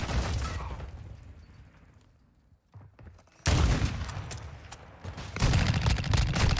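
Dense bursts of video game gunfire from a team deathmatch with a sniper loadout, loud rapid shots in two heavy volleys separated by a quieter lull, with no talk over them.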